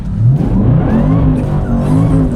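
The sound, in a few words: Jaguar XFR engine revving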